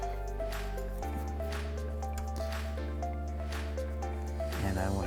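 A PEC-Pad cleaning pad is wetted with cleaning liquid, giving faint squishy, dripping sounds over a steady hum.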